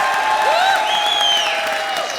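Studio audience applause at a Comedy Circus taping fills the stretch with a steady wash of clapping and light cheering, loud and continuous throughout.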